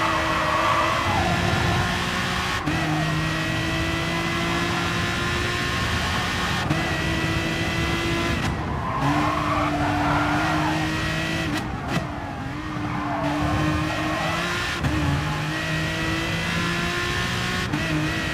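Continuous Aston Martin DBR9 race car engine roar in Gran Turismo Sport, with repeated rising revs and quick drops as gears shift down, steady and loud, with no voices.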